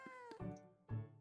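A video game cat meows twice when clicked, two clear, close, tonal mews following a brief higher chirp, with no talking.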